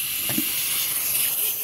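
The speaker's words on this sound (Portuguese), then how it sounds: "A panela começou a pegar pressão" Steam hisses steadily from a pressure cooker coming up to pressure on a wood-fired country stove, a continuous bright rush that holds at an even level for the whole stretch with no talk.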